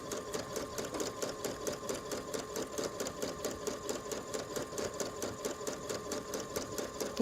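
A sewing machine stitches lace onto tulle with a fast, even, mechanical chatter that repeats without a break, heard close and alone.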